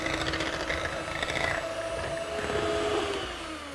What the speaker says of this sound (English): Electric mixer goes on.